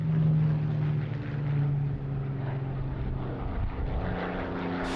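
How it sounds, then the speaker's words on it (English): Supermarine Spitfire Mk356 propeller aircraft flying at an airshow in Jersey, a steady droning engine hum holding at moderate distance with a slight swell early on, alone without talk. "When this Spitfire Mk356 was test flown by Squadron Leader Paul Day in November 1997"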